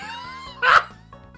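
A short, yelping dog-like bark from the Sakura Wars 5 video game sounds once over quiet background game music.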